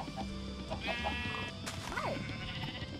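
Sheep bleating in Minecraft with a farm texture pack, several wavering bleats in a row over a dense game soundscape with other animal noises.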